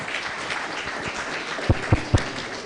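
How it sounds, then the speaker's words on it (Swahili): Applause from the audience at a ceremony honouring influential Kenyan Muslims, a dense steady clatter of many hands with a few sharper claps standing out near the end. "Makofi ya nguvu bwana kwa Fatma."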